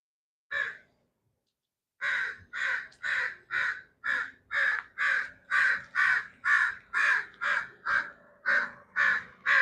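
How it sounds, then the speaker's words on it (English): Crows cawing in a video game: one lone caw, a short pause, then a long steady run of about fourteen loud, evenly spaced caws with no voices. "gotta talk to these birds."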